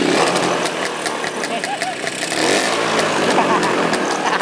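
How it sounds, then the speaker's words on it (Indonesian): A 1951 NSU two-stroke motorcycle engine idles and is revved in repeated bursts, loud and close, with a person talking over it. "Coba guys kita geber dikit"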